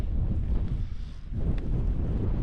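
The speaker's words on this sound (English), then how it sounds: "It's really windy now" Steady wind roars across the microphone at a wild camp, broad and rumbling, dipping briefly before gusting back up to a constant buffeting.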